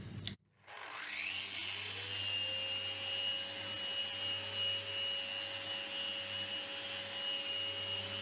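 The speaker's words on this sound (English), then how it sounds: "we're now going to use a random orbital sander with a 150 grit sandpaper and start to sand that" A random orbital sander fitted with 150 grit paper spins up after a brief knock, then runs as a steady, close motor whine with a high ringing tone, sanding down a glue line on a Mirostone solid-surface joint.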